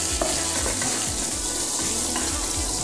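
Onion sautéing in a pan for Filipino chicken tinola, a steady close sizzle with scraping stir strokes throughout, no talking.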